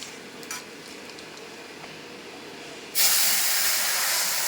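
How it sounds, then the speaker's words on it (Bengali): Dried red chillies dropped into hot oil in a wok for a Bengali fish curry: faint hiss at first, then a sudden loud, steady sizzle rising partway through and holding to the end. "এবার আমরা কড়াইতে একটুখানি শুকনো লঙ্কা ফোড়ন দেওয়ার জন্য তেলের মধ্যে একটু ভেজে নেব"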